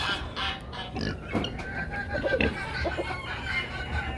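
Chickens clucking and murmuring together in an outdoor flock, with scattered short calls overlapping at close range over steady yard background noise.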